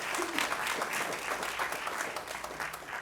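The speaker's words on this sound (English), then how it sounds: "a round of applause for Ms. Allen and Commissioner Douglas" Audience applause at a December 2019 mental health awareness event, steady and moderately distant, filling the room for the full stretch with a faint murmur of voices mixed in.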